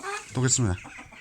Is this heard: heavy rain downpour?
no